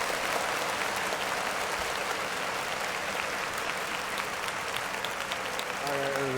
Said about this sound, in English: clap it up for Yo Gotti and Angela Simmons